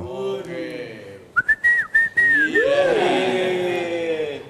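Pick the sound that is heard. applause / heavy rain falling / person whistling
person whistling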